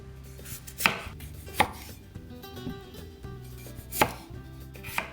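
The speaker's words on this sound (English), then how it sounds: "now we're gonna cut our potatoes" A knife chops potatoes on a cutting board, giving a few sharp, separate thunks spaced about a second apart, close and clear over a faint background hum.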